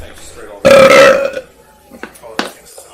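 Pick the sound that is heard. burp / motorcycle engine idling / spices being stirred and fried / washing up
burp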